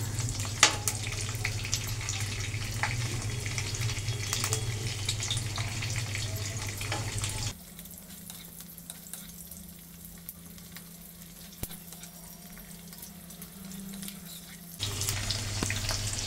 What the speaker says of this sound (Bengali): এবার এটাকে কিছু নাড়াচাড়া করবো